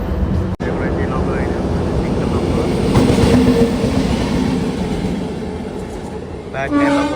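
A DEMU express train runs on rails at a Balapalli stop on the Renigunta–Nandyal line, a loud continuous rumble with clickety-clack and a brief horn-like tone near the end, heard from inside the carriage.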